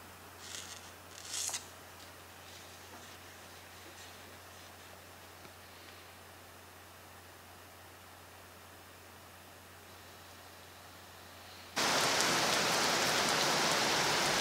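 Heavy rain suddenly pours down on arrival at a motel in New Zealand, a loud, steady broadband hiss starting late after a quiet stretch with faint patter.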